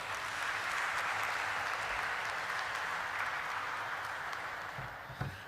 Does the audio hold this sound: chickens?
no